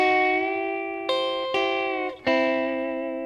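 Electric guitar on a Telecaster's middle pickup, played hybrid with pick and fingers in pedal-steel style: three plucked chords bend smoothly upward in pitch, each ringing and sustaining alone, close and clean.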